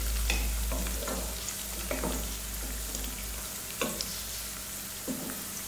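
Chicken frying in a pan with a constant bright sizzle and a few spoon scrapes and clinks, close up with no talk.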